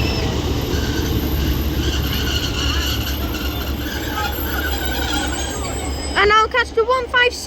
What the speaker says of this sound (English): The 195 has departed now for Liverpool Lime Street